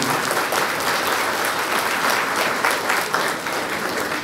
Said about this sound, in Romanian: Haideți să-l aplaudăm, pentru că părintele avea câteva emoții.